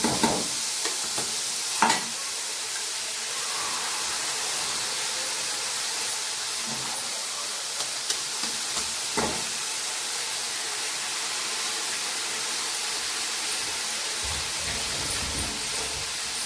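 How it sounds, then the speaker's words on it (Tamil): Eggs stir-fried with drumstick leaves in a pan: a constant close sizzle and hiss with occasional sharp scrapes and clacks of a spatula stirring, no voices. "முட்டையை சேர்த்து நல்லா வதக்கிக்கோங்க. கைவிடாமல் நல்லா கிளறி விட்டுக்கிட்டே இருங்க."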